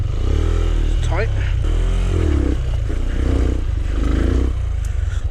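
A Rieju Marathon Pro enduro motorcycle riding up a rocky stream: a loud, steady engine drone with repeated revving surges, and clatter and scraping from rocks and water throughout.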